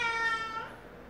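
A domestic cat gives one clear, close meow that trails off, heard alone indoors before a bath.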